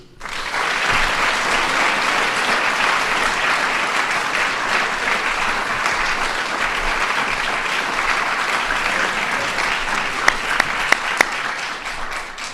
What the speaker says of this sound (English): let's give all of our finalists, winners, a big round of applause